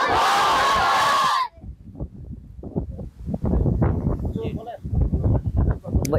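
A large crowd at a Bangladeshi political gathering roars a slogan against the Awami League in unison, answering a single loud amplified voice that opens the moment with rhythmic, surging shouted bursts.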